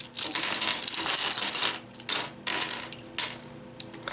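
Small inner screws are unscrewed from a V-Cube 8 puzzle cube, a close, dry run of plastic-and-metal clicking and ratcheting in short bursts with brief pauses between turns.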